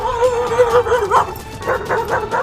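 An aggressive dog lets out loud, close yips, whining whimpers and barks in an uneven run of strained calls, alone without talk.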